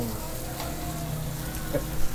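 A whole pomfret fish fries on a tawa griddle with a steady close sizzle and crackle of oil, moderately loud and continuous.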